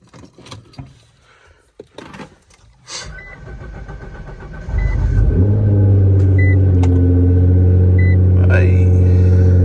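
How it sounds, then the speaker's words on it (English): Honda Civic running on E85 fuel cold-starts after a few seconds of footsteps and handling noise, then settles into a loud, steady, deep idle that fills the rest of the clip. "that E85 cold start. She a little loud."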